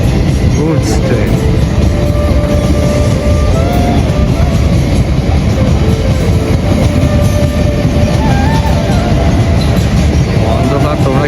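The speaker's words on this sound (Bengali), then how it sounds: "একটা লোকাল বাস হচ্ছে আর একটা মালগাড়ি" A goods train rolls past a railway level crossing at night, heard from a waiting motorcycle. The rumble is loud and continuous, with clattering wagons and occasional wheel squeal throughout.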